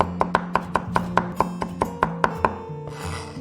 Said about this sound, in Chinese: 准备1根葱跟蒜，切成小粒。